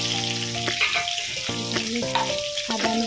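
Onions fry in hot oil, a continuous close sizzle with bursts of stirring scrapes and clinks from a spoon against the pan.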